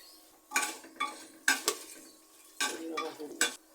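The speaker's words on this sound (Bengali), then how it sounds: "এই যে তেজপাতা আর এখানে আমি দারচিনি এলাচ লবঙ্গ একসাথে রাখছি এই সবগুলো আমি এখন দিয়ে দিলাম" Dry red chillies, a bay leaf, cinnamon, cardamom and cloves drop into a hot pan of oil. Several sharp bursts of crackling sizzle flare up and fade between quiet gaps.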